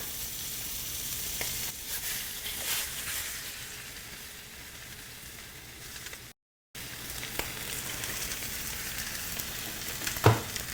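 Pork tenderloin searing in a hot pan gives a steady, close sizzle and crackle of frying meat that runs throughout, with one brief gap and a sharper pop near the end.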